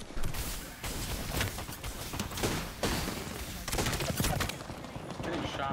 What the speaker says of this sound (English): Getting shot top bridge